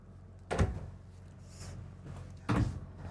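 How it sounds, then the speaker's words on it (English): Soft-close drawers in the master bedroom of a 2023 Renegade Verona LE 40LRB RV give two brief, muted thuds about two seconds apart, quiet and near, with no voices. "they are going to be soft closed. So you have 2 larger drawers and then 2 compartments."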